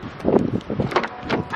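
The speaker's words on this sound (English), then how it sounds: "Oh my God, it's so windy." Strong wind buffets the microphone outdoors near a shopping stop, producing uneven rumbling gusts and bursts of noise, fairly loud and close, with no talking.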